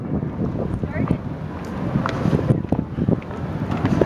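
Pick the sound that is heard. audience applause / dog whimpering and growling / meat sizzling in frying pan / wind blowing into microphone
wind blowing into microphone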